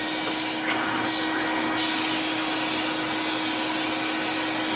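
An old canister vacuum cleaner runs with a loud, steady whine and airy roar, close by and continuous.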